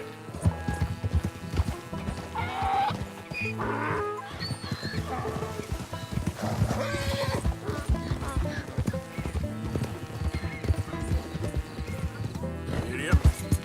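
Horse hooves clip-clopping at a steady gallop with a whinny in Red Dead Redemption 2, running continuously under game music and effects while a voice speaks briefly.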